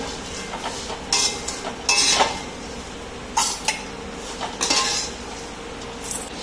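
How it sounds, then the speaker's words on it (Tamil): Metal spoon scraping and clinking against a pan as roasted garlic for idli podi is scooped out, a few distinct scrapes and clinks spaced over several seconds, fairly close with no talking. "பூண்டு நல்லா வறுந்துருச்சு, இப்போ நம்ம அள்ளிடலாம்."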